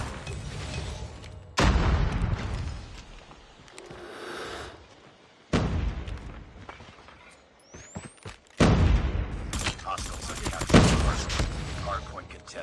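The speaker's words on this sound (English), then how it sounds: "Where am I getting shot from?" RUS-79U gunfire in the video game Call of Duty erupts in several loud bursts and rapid automatic volleys with booming impacts, separated by quieter gaps, with a voice talking in between.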